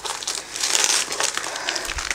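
Crinkly plastic or paper packaging crackles and crumples close up as a birthday gift box is opened, a steady busy rustle lasting a couple of seconds with no talking.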